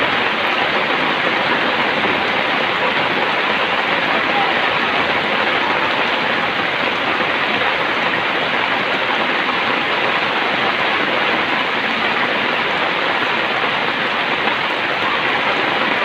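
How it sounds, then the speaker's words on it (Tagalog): Heavy rain pours down continuously, a dense, loud, steady hiss of drops with no pauses and no voices. "Napakalakas ng ulan talaga."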